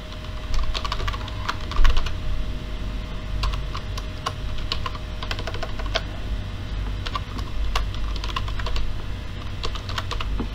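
Fast, close typing on a computer keyboard while an online complaint form is filled in, with rapid irregular key clicks running throughout and no one talking.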